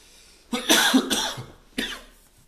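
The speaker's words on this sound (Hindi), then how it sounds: "थोड़ी खांसी आने लगी है, सर्दी जुकाम" A man with a cold coughs in a few harsh bursts, one cluster around the middle and a single sharp cough near the end, close and fairly loud with no talking.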